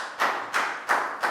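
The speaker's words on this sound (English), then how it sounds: "Big round of applause for Lakau." A primary classroom gives a student a round of applause, heard as four slow, evenly spaced bursts of clapping, close and moderately loud, with no talking.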